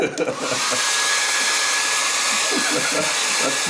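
Heat gun blowing hot air onto a Corvette emblem to loosen it for removal, a loud steady whooshing fan roar that runs unbroken after a brief start, close up.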